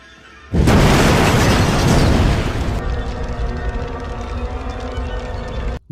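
A sudden loud, broad roaring blast of a car explosion bursts in and rumbles heavily for a couple of seconds, then settles into a sustained lower rumble that fades out abruptly.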